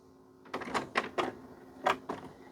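Nintendo Wii disc drive cycling open after a power restart, a series of short mechanical whirs and clicks in quick bursts, close and moderately quiet, with no talking.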